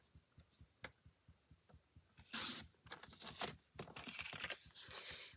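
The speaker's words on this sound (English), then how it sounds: "I'm going to cut that diagonally" Paper cut diagonally, faint rhythmic ticks giving way to louder crisp rustling and slicing bursts close by.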